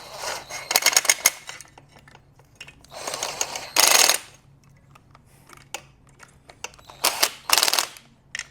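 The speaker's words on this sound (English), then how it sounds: "we're just gonna sink them down, and then we'll torque them" A ratchet wrench clicks as it runs the head bolts down on a Suzuki DS80 80cc two-stroke dirtbike, with several short bursts of rapid close ratcheting separated by pauses and small metallic clinks.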